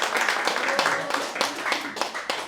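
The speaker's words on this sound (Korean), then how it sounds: "박수." A church congregation at a Sunday service claps in a brief, uneven patter of hands, with talk mixed in around the claps.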